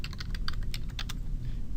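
Someone types a hex colour code on a computer keyboard: a quick run of crisp, close key clicks in an uneven rhythm, trailing off into quiet.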